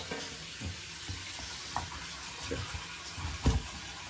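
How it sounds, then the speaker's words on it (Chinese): A kitchen pot is rinsed under a running tap. Water splashes steadily while scrubbing strokes rub and scrape against the pot at close range, with no voices. "把锅刷一下就行。"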